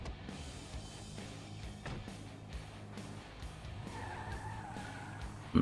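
Tires squeal as a car drifts in GTA 5, a sustained skidding screech with engine rumble that swells near the end, with no talk over it.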